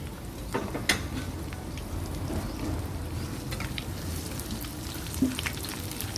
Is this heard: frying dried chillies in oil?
yes